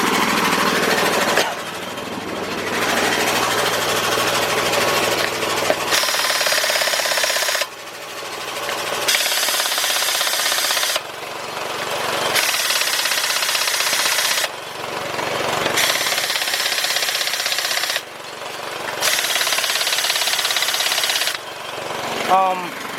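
A Craftsman 16882 air impact wrench hammers bolts tight on a 2010 Dodge Ram 1500 brake job, in loud repeated bursts a few seconds long, with the air compressor running steadily between them.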